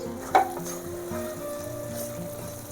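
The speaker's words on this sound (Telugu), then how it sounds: "ఒక్కసారి కలిపినామంటే ఆ చిన్న చిన్న టమాటాలన్నీ మెదిపినట్టు ఇట్లా నొక్కినట్టు చేస్తే ఉడికిపోతాయి" Small tomatoes stirred and pressed in a pan while frying for a moringa and prawn curry, a soft continuous sizzle with a faint utensil tap near the start, close and with no talk.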